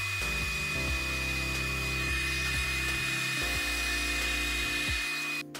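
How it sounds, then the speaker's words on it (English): A drill press whines steadily at close range, its motor pitch dipping repeatedly as the bit bites into a shifting wooden workpiece, then winding down at the end. "as soon as I press the drill press down, so it's causing a very interesting divot"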